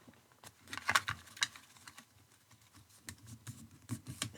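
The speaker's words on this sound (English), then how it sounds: "So fold my last one over. You can go down with your bone folder." A bone folder pressed and run along folded card to crease it, making close, soft scraping and tapping strokes in uneven bursts with short quiet gaps, no talk.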